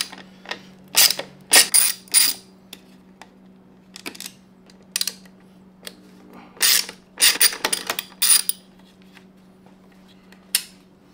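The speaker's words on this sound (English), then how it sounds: "we're gonna take a 5 Allen socket, loosen these bolts" Clicking bursts of a ratchet turning a 5 mm Allen socket to loosen bolts on a Yamaha R1 motorcycle, in quick rapid runs separated by pauses, close and crisp over a faint steady hum.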